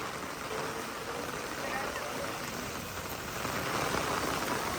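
Steady rain pours down on devotees walking the parikrama in flooded Vrindavan, a dense even hiss of drops on surfaces filling the scene, moderately loud and continuous without pause.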